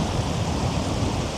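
Calm sea waves washing gently at Camber Sands beach, a soft continuous wash of surf noise, steady and fairly close, with no voices.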